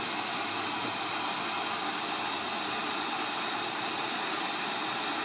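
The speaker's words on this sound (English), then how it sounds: "you're going to use your heat gun on high. And you're going to heat up the port." A heat gun running on its high setting blows hot air onto a phone's charger port during a port replacement, giving a steady, close, loud airy roar that holds without a break.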